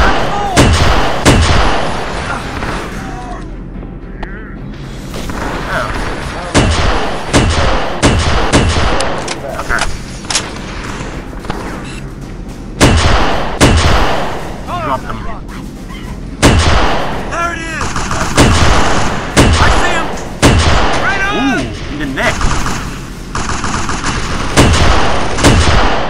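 Heavy gunfire and bombardment in the Halo SPV3 game: dense, loud volleys of shots and explosive blasts arrive in rapid clusters, with brief lulls between bursts and near-constant battle noise throughout.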